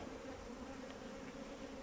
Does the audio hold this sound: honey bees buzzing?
yes